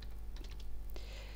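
Short burst of keyboard typing while filling in an invoice, a few quick close key taps followed by a firmer keystroke, alone with no talking.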